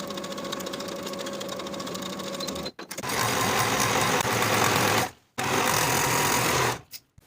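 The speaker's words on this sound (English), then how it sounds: "I'll sew with a 3/8 inch seam allowance" A sewing machine stitches the curved back seam of a jumpsuit at a 3/8 inch seam allowance, running in steady bursts with two brief pauses between them, close and loud with no talking.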